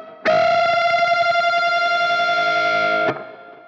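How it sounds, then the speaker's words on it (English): Electric guitar played with effects and distortion, one sustained unison bend ringing for about three seconds before being cut off abruptly, bright and alone. "Let's play the unison bend technique once more with the metronome."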